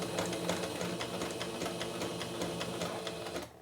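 A sewing machine stitching a drawn border onto a cotton dish towel, a fast steady mechanical whir with rapid needle ticks, close and continuous, stopping abruptly at the end.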